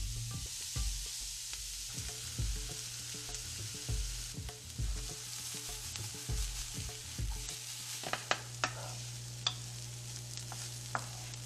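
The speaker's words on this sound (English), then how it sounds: "Next, we'll add the onion, celery, and garlic and cook them for the next 10 minutes." Onion, celery, garlic and carrots sauté in a pan for osso buco, a steady close sizzle with repeated stirring scrapes and a few sharper clicks of a utensil against the pan near the end.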